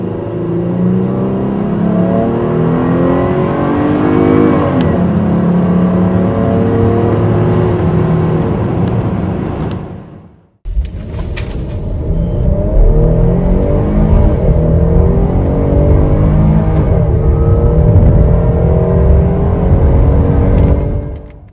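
A Dodge Durango SUV with a V6 and 8-speed automatic accelerates hard in two loud, close full-throttle runs. The engine roar climbs steadily through the gears, cuts off briefly midway, then surges again.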